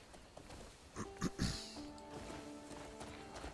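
A few video game horse hoofbeats clip-clop close by, quiet and brief, with soft sustained tones humming in the background.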